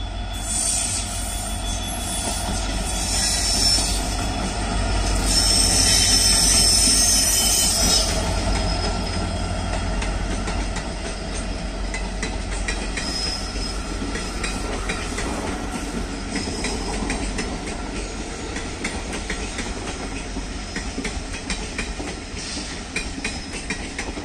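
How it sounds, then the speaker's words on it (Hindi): Bhopal Jaipur Express hauled by an electric locomotive rolls past, a loud continuous rumble of wagons with rhythmic wheel clatter and high metallic squeals, steady and close throughout with no talking. "और ये आ गई भोपाल जयपुर एक्सप्रेस"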